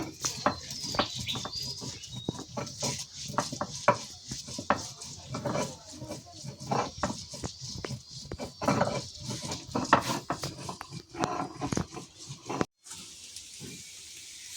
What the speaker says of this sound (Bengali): এখন কিন্তু আমি কাঁচা লঙ্কা আর রসুনটা বেটে নিচ্ছি